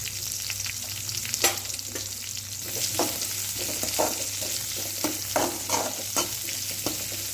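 Chopped onion sautés in oil in a pan for sambar, a continuous close sizzle with repeated spatula scrapes and stirring taps, and no speech.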